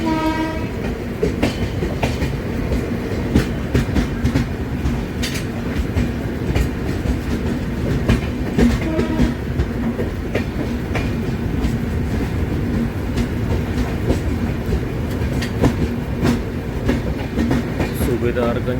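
Dehradun–Kathgodam Express (14120) passenger train rolling steadily on rails, a continuous loud rumble with rhythmic wheel clatter and brief horn-like tones throughout.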